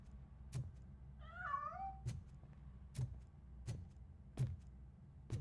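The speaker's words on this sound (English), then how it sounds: "Cat's gonna jump out of there." A cat in the game RoboCop: Rogue City gives a short meow as it escapes from a hiding spot, set against a steady low hum and regular soft clicking footsteps.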